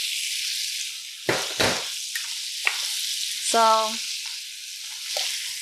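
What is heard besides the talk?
spinach sautéing in a pan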